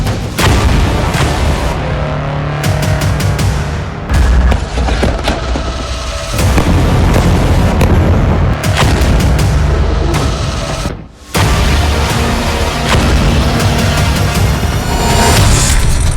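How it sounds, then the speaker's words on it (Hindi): Israeli artillery shelling in Gaza: heavy booms and rumbling blasts come in dense bursts over a loud continuous roar, with crackling impacts and a brief lull partway through. "इजराइल की सेना अधिक से अधिक तोपों का इस्तेमाल कर रही है।"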